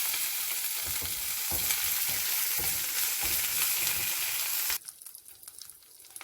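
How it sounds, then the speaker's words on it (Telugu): Garlic pieces and curry leaves fry in hot oil in a pan, a loud steady sizzle with periodic scraping stirs, then the frying drops away abruptly near the end, leaving quieter faint crackles. "గార్లిక్ పీసెస్, కరివేపాకు అన్నీ వేసుకొని బాగా వేయించుకోవాలి."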